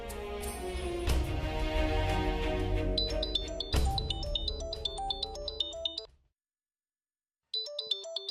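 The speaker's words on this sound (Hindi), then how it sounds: "अंश के ऑफिस से फोन" A mobile phone ringtone plays for an incoming call from an office, a bright repeating melodic tune over a fading background, pausing briefly before starting again.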